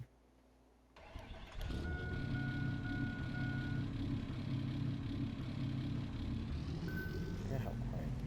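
Truck engine starting in Farming Simulator 22, cranking to life after a second and settling into a steady, moderately loud idle hum with faint tonal beeps over it.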